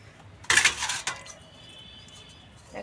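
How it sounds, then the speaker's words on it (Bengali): A plate set down over a bowl of kneaded flour dough in a home kitchen gives a short, close clatter of ceramic and metal lasting about half a second, then quiet. "একটা থালা দিয়ে এখানে ঢেকে রেখে দেবো"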